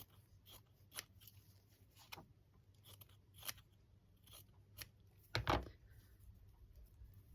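Scissors snip through journal material in a series of crisp, separate cuts spaced irregularly, with one louder, fuller crunch near the end, close and fairly quiet with no talking.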